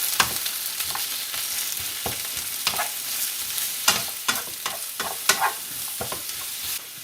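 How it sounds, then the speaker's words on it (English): Thin carrot slices sizzling in a pan while being stirred, a continuous fry with frequent clattering scrapes and tosses close by. "We're going to chuck them in the pan as well. Bit of a mix around there."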